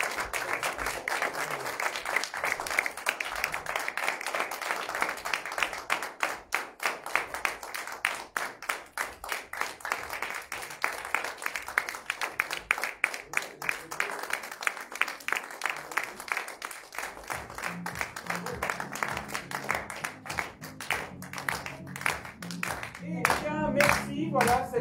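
An audience at an evening event applauds loudly for about twenty seconds, a sustained dense clapping that turns into rhythmic clapping in unison, then gives way to voices and music near the end.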